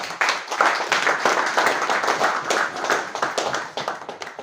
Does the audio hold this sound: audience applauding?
yes